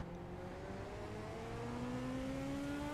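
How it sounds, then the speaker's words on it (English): Race cars with motorcycle-derived engines in the iRacing sim on a Chicago street course hum steadily at low volume, engine tones rising smoothly in pitch as they accelerate under caution. "But I also love the sound of these cars. They're obviously motorcycle engines, but they sound pretty cool."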